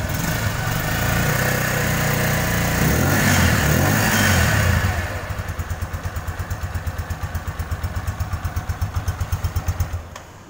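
Benelli Motobi 152 cafe racer engine idling at low throttle, a loud rough rumble that settles into a steady, evenly pulsing idle beat, alone with no voices.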